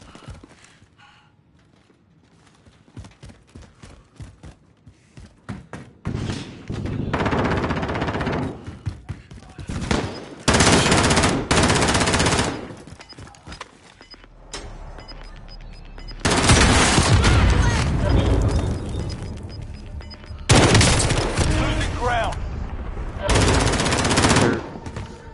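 Assault rifle fire in a multiplayer video game shooter, long sustained automatic bursts alternating with short gaps and scattered single shots, loud and close.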